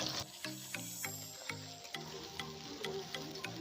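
Chopped vegetables dropped into hot oil for a rui fish curry, a steady sizzle and crackle of frying with clinks of a utensil on the pan, close and alone without talk.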